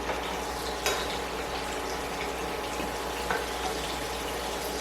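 Steak searing in a hot pan while being flipped, a steady close sizzle with brief clatters of a utensil against the pan, no talk.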